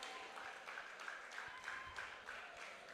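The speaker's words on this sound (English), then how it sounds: "Keep clapping, keep clapping" At a photo festival, an audience claps steadily for a speaker coming on stage, a dense wash of applause with a faint tone running underneath.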